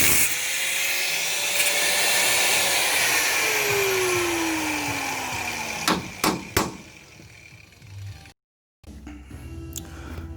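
Angle grinder grinding steel on a Suzuki Sierra/Samurai rear-up-front axle conversion, a loud continuous whine with a falling pitch sweep, then a few sharp clanks and a brief pause before quieter shop noise resumes.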